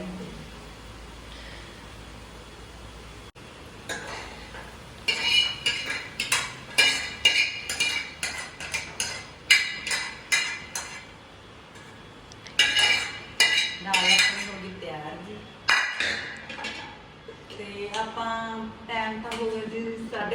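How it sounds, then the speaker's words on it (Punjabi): Garlic and onion tempering stirred in a pot on a stove, loud bursts of metal scraping and clinking in irregular runs, separated by quieter stretches and a low background hum. "ਆਪਾਂ ਲਸਣ ਤੇ ਪਿਆਜ਼ ਕੱਟ ਕੇ ਜੀ ਤੜਕਾ ਲਾ ਲਿਆ"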